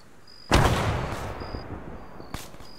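A single grenade blast in Arma 3 during a tactical firefight, a sudden loud broadband boom with a long rumbling decay, followed by a sharp distant shot near the end.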